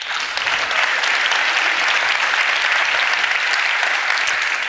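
Steady, dense applause from an audience at the YES awards after a pitch, loud and continuous throughout with no pauses.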